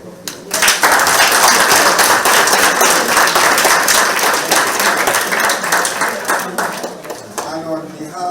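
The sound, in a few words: round of applause for the chief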